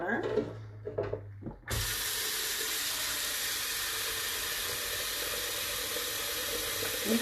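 Cold water gushes from a kitchen tap into a pot of homemade chicken broth, a steady loud rushing hiss that starts abruptly after a few seconds of clinks and handling sounds.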